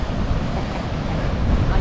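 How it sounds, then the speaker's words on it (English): Strong wind buffets the microphone with a steady roar, blended with the rush of surf nearby, at Hanna Park beach in Jacksonville, Florida. "It's always windy out here."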